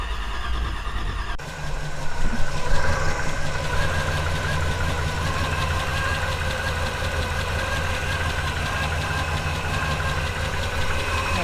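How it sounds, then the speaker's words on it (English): A car engine that had been flooded runs after being started with extra throttle, a loud steady idle with a rhythmic knocking pulse and constant vibration, close by, with a brief clunk near the start and no talking. "I gave it some more throttle and it started right up."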